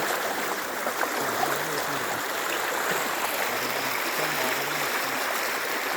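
The flooded Meenchira stream rushes past in a continuous, loud, even roar of fast water, close by with no pauses.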